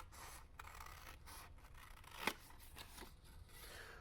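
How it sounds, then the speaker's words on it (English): Scissors cut slowly through a thin plastic code card for an HPC 1200 Blitz machine, a steady close rasping scrape with a sharper snip partway through, with no talking. "I'm trying to keep it as straight as I can with using a pair of scissors here"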